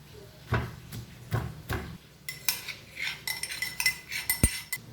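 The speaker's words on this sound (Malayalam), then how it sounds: "ഇനി ബാക്കി ഇഞ്ചി ഇതുപോലെ തന്നെ നമുക്ക് ചതച്ചെടുക്കണം." Ginger being crushed for ginger curry, a series of dull pounding thumps at a steady, unhurried rhythm, then lighter clinking and tapping against a pot or utensil, close and fairly quiet with no talk.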